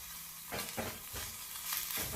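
Onions and garlic frying in a pan for North Karnataka capsicum palya, a soft sizzle with a few stirring swishes, quiet and close.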